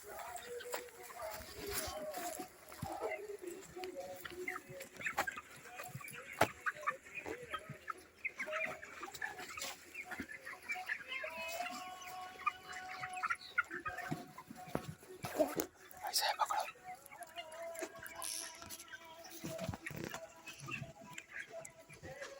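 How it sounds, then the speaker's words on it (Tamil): Broiler chickens cluck and call at a broiler chicken farm, a busy scatter of bird sounds with a few sharper cries, running steadily at moderate distance while people talk nearby. "பிராய்லர் கோழியோடைய பண்ணை ஃபார்ம், பிராய்லர் ஃபார்ம்"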